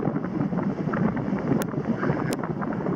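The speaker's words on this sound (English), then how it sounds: "It is quite breezy." Winter wind gusts through the woods in the Boundary Waters, roaring steadily and buffeting the microphone with a dense, rumbling rush. Two brief high clicks break through, and nobody speaks.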